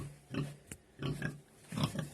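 A sow grunts in a barn, three separate bursts of low, rough grunting spaced about a second apart, close and fairly loud with a sharp click between the first two.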